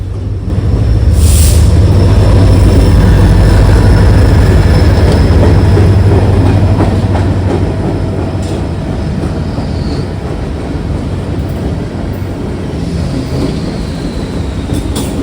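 Norfolk Southern freight train pulled by two Freedom 40 locomotives at Watkins Yard in Columbus, Ohio, rumbling loud and close with a deep engine drone and continuous rolling wheel noise that eases slightly as it continues.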